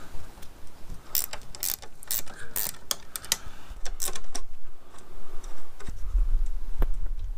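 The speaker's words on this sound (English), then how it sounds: "Loosen these 8 bolts." Bolts on the rings of a Kamado Bono grill being hand-loosened with a ratcheting tool, giving a string of close metallic clicks and ticks in short bursts over a low rumble, with no talking.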